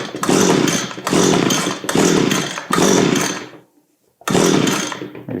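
A freshly repaired Echo string trimmer engine runs close and loud, its buzzing roar surging and dropping in repeated bursts of about a second each, with one brief quiet gap before it revs again.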